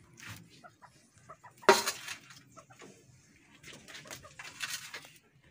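Backyard chickens clucking and calling while being fed rice, a sequence of short close clucks with one sharp louder squawk near the middle and a busier flurry of calls toward the end.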